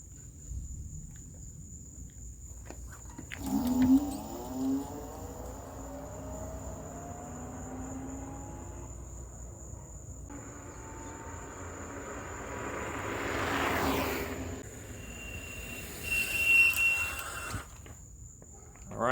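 NANROBOT RS7 electric scooter running on a single motor in speed mode 2, reaching about 21 mph, with a steady whine that rises in pitch and wind rush building and easing, close by with no talk.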